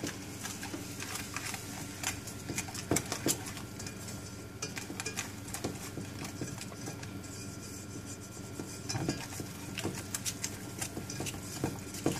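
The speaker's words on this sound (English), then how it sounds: "we're going to add our 3 tablespoons of flour and our ½ teaspoon of salt. Going to stir that up" Flour and salt stirred into melted butter in a pot, a steady soft patter of scraping and light clinks from a utensil against the pan, close and continuous without talk.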